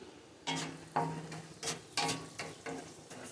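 Sliced onion frying in a pan for coriander fried rice, with a bed of sizzle and about half a dozen sharp, rhythmic stirring scrapes in quick succession, close up and with no talking.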